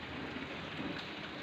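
Light drizzle falls on potted plants and cuttings, including a syngonium cutting, making a dense, steady hiss of rain close by with no voices.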